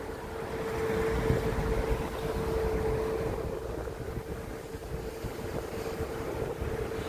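Wind blows on a winter night in downtown Toronto as a steady, loud roaring buffet across the microphone, with a faint low hum underneath and no voices.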